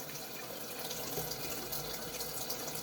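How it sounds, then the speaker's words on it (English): Running water from a tap rinses honing slurry off a Water of Ayre sharpening stone, a steady soft hiss and splash throughout with no talk. "So I'm going to wash a little of this slurry off"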